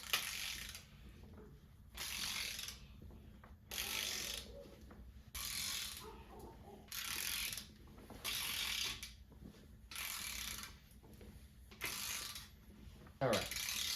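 A torque wrench clicks and ratchets over and over as it tightens the cylinder head studs on a four-cylinder VW TDI engine, with short, quiet bursts of ratcheting and brief pauses between them.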